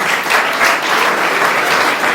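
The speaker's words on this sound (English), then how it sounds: "Another round of applause for nurses" Applause from a seminar audience honouring nurses during International Nurses Week, a dense, steady wash of many hands clapping at once, loud and continuous throughout with no voices over it.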